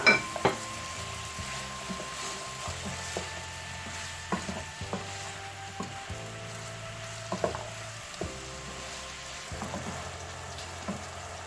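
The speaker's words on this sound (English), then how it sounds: "While I'm stir frying the vegetables, now I'm going to add the mixed herb, seasoning and the salt together." Vegetables are stir fried for Nigerian chicken and vegetable fried rice, giving a steady soft sizzle broken by repeated clicks and scrapes of a utensil against the pan.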